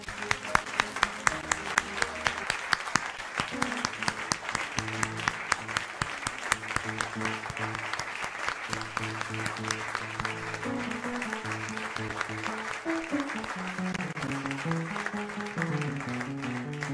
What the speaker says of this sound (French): Mesdames et messieurs, accueillons sous vos acclamations